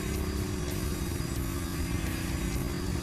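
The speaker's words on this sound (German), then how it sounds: "Motorrad fahren von Undertaker können wir auch noch." A motorcycle engine in the WWE SmackDown! Here Comes The Pain video game hums and revs in a steady, dense drone with a clattering undertone throughout, with no talking.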